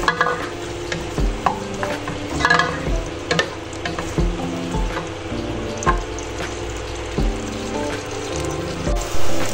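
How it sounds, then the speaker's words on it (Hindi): A medium-sized onion browning in hot oil, with a continuous sizzle and crackle and some scattered clinks and stirring knocks near the pan. "अब इसमें हम डाल रहे हैं एक मीडियम साइज की प्याज। प्याज को हमने थोड़ा सा ब्राउन करना है"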